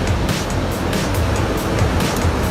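Sea waves breaking and washing steadily at the rocky shore of Luna, La Union, a loud continuous surf roar with rhythmic crashes throughout.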